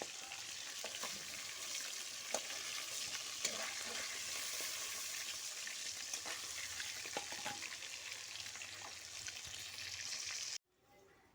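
Food frying in a pan of oil already used for frying fish, a dense, even sizzle with occasional crackles that runs steadily and then cuts off abruptly near the end.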